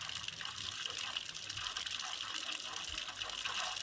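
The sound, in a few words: water flowing through open drip irrigation timer valve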